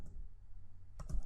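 Keys click on a computer keyboard during an Android Studio coding session, a quick burst of a few close taps after a quiet pause.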